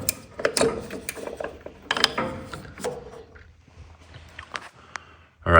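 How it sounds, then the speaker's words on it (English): Mechanical clicks, ratcheting and metallic handling sounds from work on the distributor of a 1964 Volkswagen Beetle engine, close and irregular with pauses, ending in a loud clunk. "Let's pop this distributor off and see."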